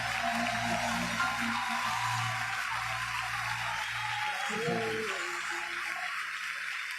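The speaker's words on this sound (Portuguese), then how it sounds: "Aplauda o Senhor." Church congregation applauding during worship at a deliverance service, a broad steady clapping wash over a sustained low musical tone that drops out near the end, with no clear voices.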